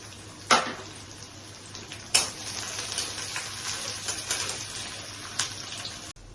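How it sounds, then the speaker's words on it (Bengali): Chopped onions frying in a pan, a steady low sizzle throughout with a few sharp clatters of a spoon or utensil against the pan, no talking. "তাহলে আমার পেঁয়াজটাও এভাবে ভাজা হয়ে গেছে।"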